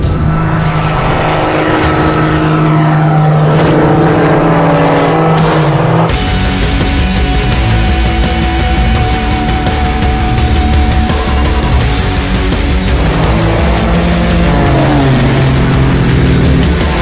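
A MINI John Cooper Works GP drives hard around the Red Bull Ring race track, a loud, sustained engine roar whose pitch rises and falls with shifts, changing character abruptly partway through.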